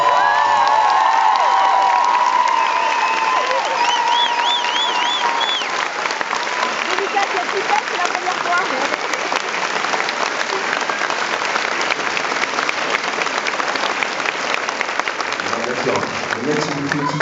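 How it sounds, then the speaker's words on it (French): A concert crowd at a show applauds and cheers loudly in a long, dense ovation, with whoops rising over the clapping and a voice speaking early on. "Donc si vous pouvez l'applaudir très fort."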